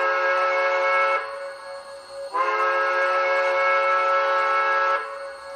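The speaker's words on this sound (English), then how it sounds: "Whistle long tube is F2." A Bachmann HO scale 2-10-0 Decapod model steam locomotive's WOWSound long tube whistle, blown in two sustained chime-like blasts separated by a brief dip, steady and fairly loud with no talking.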